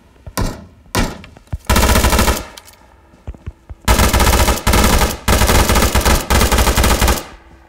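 Machine gun fire in the video game PUBG comes in loud, close bursts of rapid shots, a few single cracks first and then several long sustained volleys with brief gaps between them.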